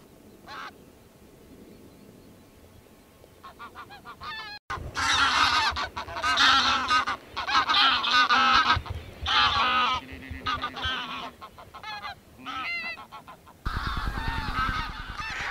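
A flock of geese circles above a field during wildfowling on Orkney, shown sped up. Sparse honks at first give way to loud, dense, overlapping honking and cackling that rises and falls as the birds pass overhead.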